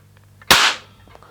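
A Daisy Number 960 Old Trusty training rifle fires once, a single loud, sharp bang with a short decaying tail, close and alone against a quiet background.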